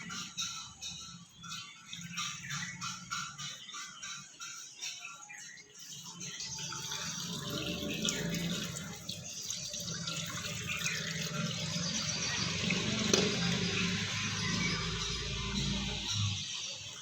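Water pours steadily into a window frame being filled for a leak test, a continuous close rushing and splashing like a running tap that grows fuller and louder over time.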